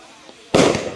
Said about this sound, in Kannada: ಪಟಾಕಿ ನೆಮ್ಮು ವಾನವಿಡಿ ನೋಡಿ ಹೆಂಗೆ ಬಿಡ್ತವ್ರೆ ಅಂತ